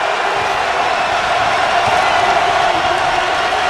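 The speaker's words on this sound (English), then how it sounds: "Now the Tigers crowd comes alive." Loud, steady roar of an LSU Tigers basketball crowd cheering in the arena during a home game against Louisiana, a dense continuous wash of voices and whoops filling the whole clip.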